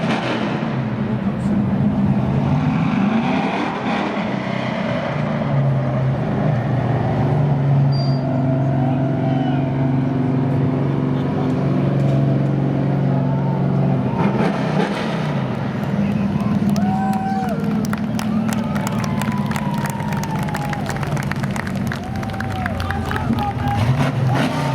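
A sportsman race car on its victory lap at a speedway runs with a steady, loud engine drone that shifts in pitch, under a crowd murmur and an announcer speaking.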